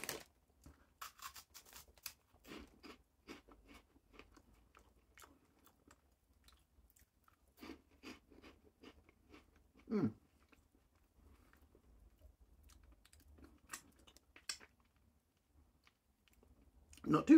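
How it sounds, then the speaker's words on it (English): Crunching and chewing of Walkers crisps close to the mouth, scattered crisp bites and munching that are quiet overall, with a few louder crunches and brief stretches of silence. "Walker's crisps, they are quite full"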